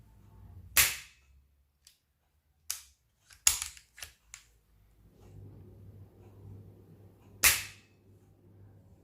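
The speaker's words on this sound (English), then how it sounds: "So obviously there's no CO2 in here, but you can just listen how smooth that trigger is." An Artemis CP2 air rifle trigger dry-fired with no CO2 loaded gives several sharp, close mechanical clicks at irregular intervals, with a couple of quick double snaps and a faint rumble between them.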